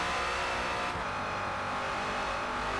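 #17 Ford Falcon FG X race car at Maple Valley in Forza Motorsport, its engine roaring steadily and briefly easing before climbing again as the throttle comes back on.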